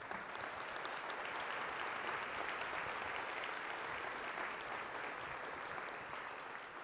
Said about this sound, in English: Applause for our sponsors, please.